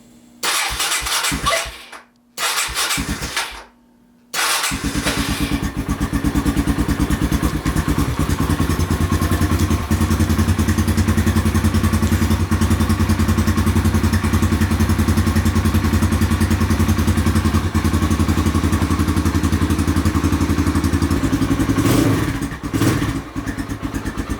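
A Kawasaki KLX140 dirt bike engine starts after a few brief cranking bursts, then settles into a steady, close idle that runs loud and continuous with no talking.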